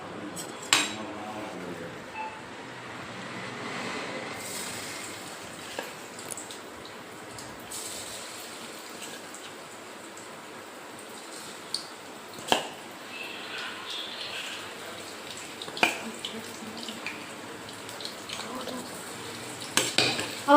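Soya chunks tossed into hot oil and stirred around a pan, a faint low sizzle broken by sharp clinks and scrapes of a utensil against metal at irregular moments.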